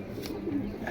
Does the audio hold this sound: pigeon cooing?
yes